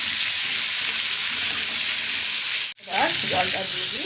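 Ridge gourd fries with coriander, cumin and turmeric powders in a pan, giving a steady loud sizzle; partway through a brief dip is followed by stirring scrapes and clatters of the spoon against the pan over the continuing fry.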